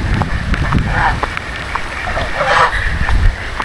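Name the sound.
typhoon wind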